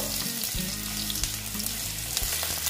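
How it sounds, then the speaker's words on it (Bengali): Potatoes frying in a pan give a dense, steady sizzle that stays loud and close throughout, with faint stirring underneath and no voices. "এই যে আলুটা আমি এখন ভেজে নিচ্ছি"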